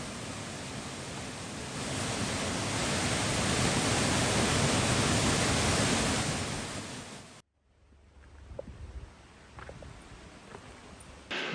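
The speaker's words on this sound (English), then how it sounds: "The next waterfall down the highway to the west was White Horse Falls." White Horse Falls, a waterfall about 15 feet high in Oregon, roars as a dense steady rush for several seconds, then cuts abruptly to a quiet outdoor scene with faint scattered ticks and knocks.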